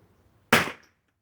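A single sharp gunshot from a 12-gauge shotgun or .22 rifle at target practice, one loud, close crack with a short fading tail and no other sounds around it.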